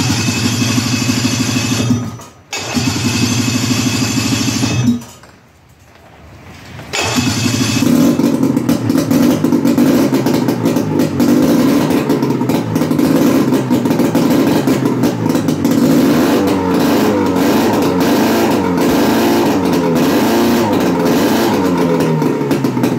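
A Ski-Doo 380 snowmobile engine that has been primed with a choke pump sputters and catches after a short gap, then runs steadily with repeated loud revving, close up and with no one talking over it.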